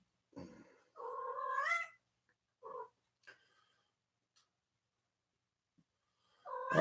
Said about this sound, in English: The cat's freaking out because the cat whisperer is not in here anymore.